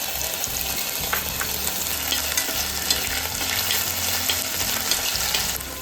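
Ginger-garlic paste sizzles steadily in two spoons of hot oil in a pan over lowered gas heat, a continuous close frying hiss with occasional stirring scrapes throughout.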